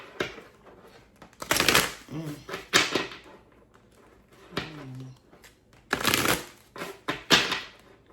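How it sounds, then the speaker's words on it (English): Tarot cards are shuffled in several crisp, fluttering bursts close to the microphone, separated by quieter pauses, with occasional speech in between. "Let's pull a few other cards."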